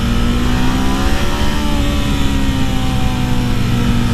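Ducati Monster 1200R motorcycle engine running steadily while being ridden, a loud continuous mid-pitched drone with a slight rise in pitch partway through, heard close without any talking.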